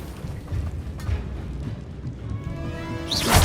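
A Confringo fire-spell blast in the video game Hogwarts Legacy: a rumbling, crackling backdrop that ends in a sudden bright burst, heard without any voice.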